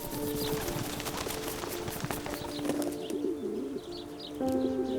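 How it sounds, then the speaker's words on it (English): Racing pigeons coo softly at a loft, low burbling calls repeating among faint chirps and a wing flutter, with no talk. "Many amateur breeders keep racing pigeon lofts."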